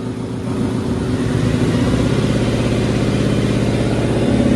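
A car engine in a workshop builds from idle into a sustained rev, the drone rising and holding loud and close with a steady pulsing rumble, no voices over it.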